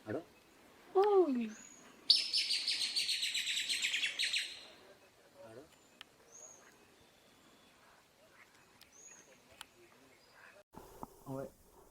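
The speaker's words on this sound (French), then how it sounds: "Il y a des super oiseaux quoi" Birds chirp and call around a mountain hiking trail on Mount Sabyinyo in Rwanda, with a loud buzzing burst early on, then scattered sharp tweets near and far and brief faint voices.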